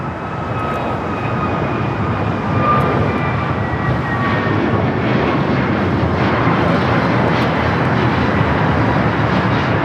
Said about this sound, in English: This is American Airlines 865 taking off to Miami, Florida on the A321neo